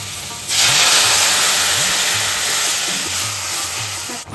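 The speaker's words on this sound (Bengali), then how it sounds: "মশলাটা কষা হয়ে গেছে এবারে দিয়ে দিচ্ছি জল" Water poured onto fried spice paste in a pan for a Bengali fish curry with small morola fish bursts into a loud, steady hissing sizzle that starts abruptly and holds for several seconds at close range, with no talk.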